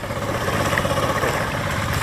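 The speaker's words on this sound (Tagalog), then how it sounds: "Nauna na po yung ano, traktora." A tractor engine on a rural dirt road in the province, a steady mid-pitched running drone heard continuously at moderate distance with no talking.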